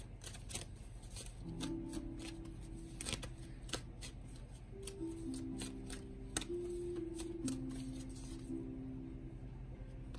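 Tarot cards are shuffled close by in quick, soft riffling bursts with crisp flicks, quiet, alongside faint faint tonal sounds in the background.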